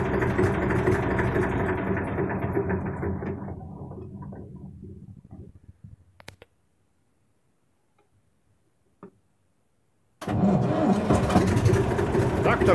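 A warmed-up diesel tractor in warm weather: a loud engine fades and dies into near silence with a few faint clicks, then fires up abruptly and runs strongly again without throttle or glow heater.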